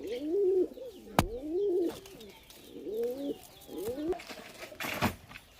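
A pair of released pigeons, fancy Chini Kaldum and red Shell breeds at a pigeon farm, coo in repeated rolling phrases close by, with a sharp clack and a burst of wing noise near the end.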